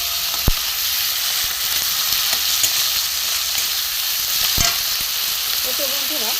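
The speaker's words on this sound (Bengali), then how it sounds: "একটু ভালো করে কষিয়ে নেবো।" Vegetable curry masala with coriander leaves sautéing in a pan, a continuous close frying hiss with a couple of sharp utensil knocks and occasional stirring scrapes.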